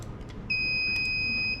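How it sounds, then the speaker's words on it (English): Buzzer wired to an ESP32 board in an IoT workshop gives one steady high electronic tone lasting about a second, close and clear over faint room noise. "Buzzer?"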